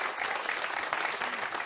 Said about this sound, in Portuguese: uma salva de palmas para a nossa convidada da Amaló Clínico